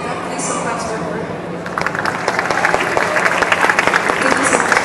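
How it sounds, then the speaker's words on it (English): At a school English class debate, a voice talks briefly before an audience breaks into steady, moderately loud clapping that continues to the end. "Please some claps for her"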